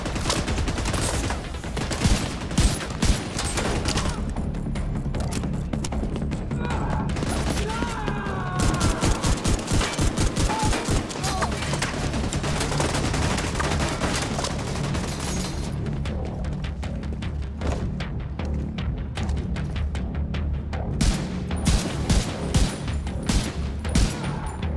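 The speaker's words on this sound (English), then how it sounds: "You can actually shoot the grenades in midair too." Heavy sustained gunfire and bursting grenades shot in midair during a firefight in The Division 2, with repeated sharp reports and booms over roughly twenty-five seconds, mixed with occasional voices.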